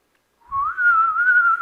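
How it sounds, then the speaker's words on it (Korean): A person whistles a single sustained note during an early-morning church sermon: a clear, steady tone held for about a second, slightly rising at first, close and fairly loud. "휘파람을 불어"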